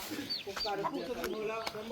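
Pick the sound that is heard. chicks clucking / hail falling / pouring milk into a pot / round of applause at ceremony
chicks clucking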